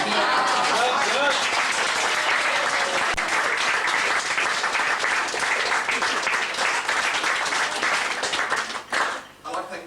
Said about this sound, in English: I'd like them to stand and take the applause.